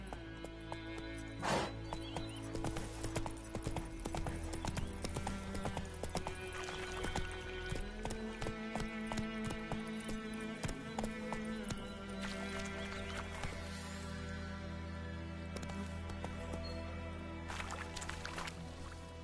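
Hooves of Roach, Geralt's horse in The Witcher 3, clip-clop steadily over a game soundscape, with an occasional neigh and faint background music and water ambience.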